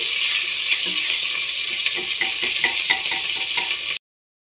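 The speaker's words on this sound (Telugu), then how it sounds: "తర్వాత కొంచెం అల్లం వెల్లుల్లి పేస్ట్ వేస్తున్నాను." Ginger garlic paste frying in hot oil for chole masala, a bright hissing sizzle with light stirring clicks, close and fairly loud, cutting off abruptly at the end.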